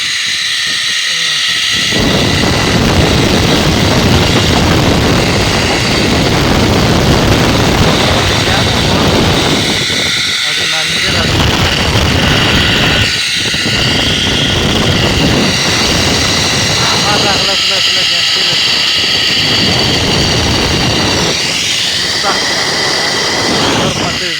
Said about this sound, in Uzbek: Kelib qo'ndi samolyot.